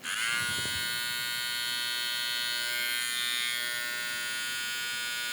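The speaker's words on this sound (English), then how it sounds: "The trimmer has a nice sounding motor on it." An Andis Phenom cordless hair trimmer runs steadily after being switched on, a close, even high-pitched electric buzz with no talking.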